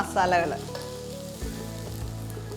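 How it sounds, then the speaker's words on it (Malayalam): Curry leaves dropped into hot oil for beef mappas burst into a loud crackling sizzle, then a steady frying hiss continues with a brief stir partway through, close and with no talk. "നമുക്ക് കുറച്ച് കറി ലീവ്സ് ആഡ് ചെയ്യാം"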